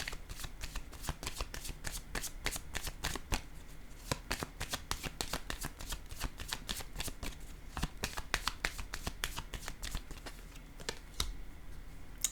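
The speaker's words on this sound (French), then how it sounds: "je vais déposer une carte en cette zone" Playing cards handled and shuffled, a rapid run of crisp close riffling flicks and snaps continuing throughout at low volume, with no talk.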